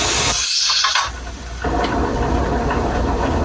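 A pressure canner holding mushrooms vents steam in a steady, loud, broadband hiss that runs throughout, with one brief dip in the middle and no voices.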